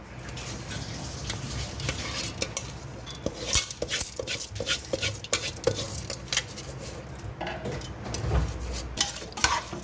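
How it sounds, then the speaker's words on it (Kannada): Rinsed rice and lentils are stirred as they fry in ghee, with repeated scraping and clinking of a spoon against the pot over a soft background sizzle. "ಈ ಅಕ್ಕಿ ಮತ್ತು ಬೇಳೆನ ತೊಳೆದು ಬಿಟ್ಟು ಇದು ಒಂದು ಸ್ವಲ್ಪ ಹಾಗೆ ಬಿಸಿ ಆಗೋ ತನಕ ತುಪ್ಪದಾಗ ಹಾಗೆ ಫ್ರೈ ಮಾಡ್ಕೋಬೇಕು"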